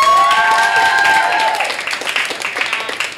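Audience applause at a poetry slam in Leeszaal West, Rotterdam, a dense steady patter of many hands clapping, with tonal voices over the first second and a half before the clapping carries on alone.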